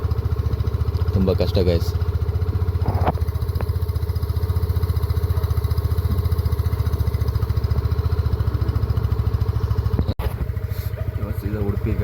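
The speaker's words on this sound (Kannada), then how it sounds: "ಗಾಡಿ ಬಿಸಿ ಆದಮೇಲೆ ಸರಿಯಾಗುತ್ತೆ. ಈ ಚಳಿಗೆ ಆಯಿಲ್ ಬೇರೆ ಫ್ರೀಸ್ ಆಗಿಬಿಟ್ಟಿದೆ ಗಾಡೀಲಿ." Motorcycle engine idling rough and uneven on a cold morning with thickened oil, loud and close with a steady chugging throb, while someone speaks briefly over it.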